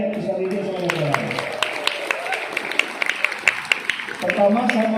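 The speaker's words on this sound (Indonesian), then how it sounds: "Tepuk tangan buat adik-adik peserta didik sama orang" Scattered applause for students at a Scout ceremony at a high school, sharp separate claps under continuing speech, swelling briefly near the end.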